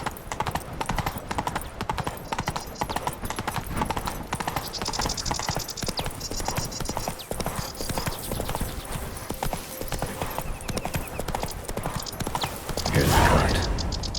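A horse pulling a cart in The Witcher 3 clops with a rapid, steady hoofbeat rhythm, close and clear, with rattling cart mechanisms and a brief swell of noise near the end, and some talking in the background.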